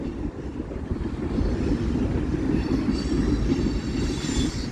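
Union Pacific manifest freight train led by UP 1996 rolls past on Central Avenue with a continuous heavy rumble of wheels and cars and a faint high squeal of wheels on rail.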